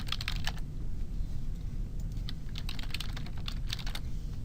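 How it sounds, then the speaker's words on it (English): Fingers tap on a computer keyboard in quick, uneven bursts of close, crisp keystrokes over a steady low background hum, with no one speaking. "type in alien planet"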